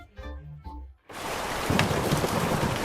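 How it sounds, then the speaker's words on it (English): A simulated rainstorm on a Lego roof starts abruptly after a moment of quiet, a dense, steady hiss of falling rain that stays loud and close to the end. "Let's see if this roof can now resist a rainstorm."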